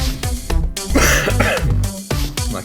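A person coughs several times in quick bursts, close and loud, with short pauses between the harsh coughs and no talking.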